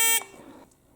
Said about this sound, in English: It's just got a little 3-watt buzzer in there.